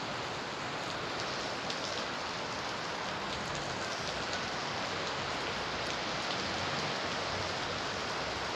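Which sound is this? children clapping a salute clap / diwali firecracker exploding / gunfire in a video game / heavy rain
heavy rain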